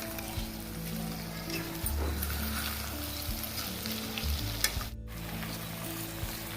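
Koramenu fish pieces sizzle steadily in a hot pan of masala as they are turned, with a close, continuous frying crackle and a few soft scraping and stirring knocks.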